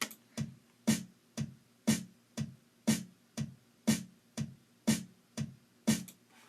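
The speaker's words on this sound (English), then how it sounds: "This is a basic dance beat." A steady four-on-the-floor dance beat: a kick drum on every beat with a snare landing on every other one, dry and evenly paced.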